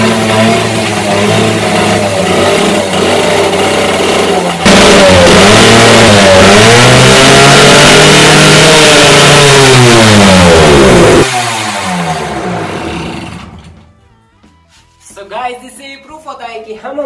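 A petrol motorbike converted to run on gas revs loudly and steadily at close range, its pitch rising and falling through several surges before the engine winds down and drops to quiet near the end, with faint voices afterward.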